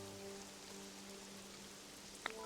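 Steady rain falling in the video game Pokopia, a soft continuous hiss over faint background game music with tonal hum, ending in a brief light chime.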